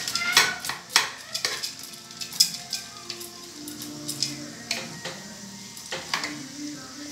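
Peas sautéing in a pan while a utensil stirs them, giving a soft ongoing sizzle broken by repeated scraping and clinking strokes, close by with no talk.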